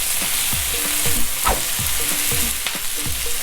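Chopped tomatoes go into a pan of sautéing onions for a coconut milk vegetable curry, a loud steady sizzle with rhythmic scraping strokes of a spoon against the pan.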